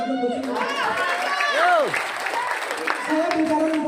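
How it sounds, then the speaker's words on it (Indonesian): An audience applauds for a moment at a talk, with clapping mixed with crowd noise and a loud voice speaking over it. "Tepuk tangan untuk silika."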